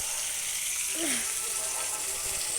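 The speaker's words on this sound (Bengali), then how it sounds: "আলু কেটে আলুটাকেও ভাজতে দিয়েছি" Sliced potatoes fry in hot oil for a Bengali fish curry, giving a steady, close sizzling hiss with a faint bubbling undertone.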